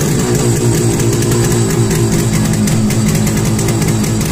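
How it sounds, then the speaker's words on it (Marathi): A twin-carburettor Yamaha RD 350 two-stroke motorcycle idles close by, a loud, steady low rumble with a fast, even pulsing throb that holds unchanged throughout. "गाडीचा आवाज बघा, दोन्ही इंजिन चालू।"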